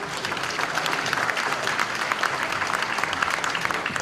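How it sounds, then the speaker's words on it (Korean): Sustained applause from a sizable audience at a political party's founding rally in North Jeolla, dense steady clapping at an even level throughout. "박수로 환영해 주시기 바랍니다"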